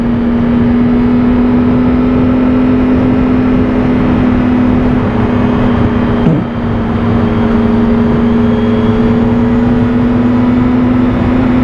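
Triumph Speed Triple 1050R 2016 motorcycle with a 1050 cc engine running steadily, a constant near, loud drone holding pitch through the whole stretch with only a slight dip midway, no voices.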